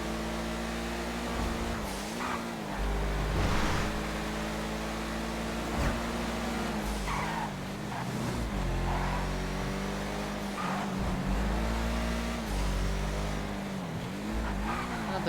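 An Ubermacht Sentinel XS4 sedan, modelled on a BMW M5, drives in GTA 5 Online, its engine droning steadily with rising and falling revs and brief shifts, with no voices.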